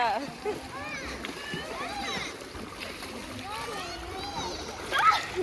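Water splashes from people swimming in a resort pool, with ongoing splashing under frequent talking and children's voices, rising briefly near the end.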